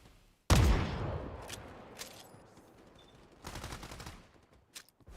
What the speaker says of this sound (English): Oh, a wind grenade.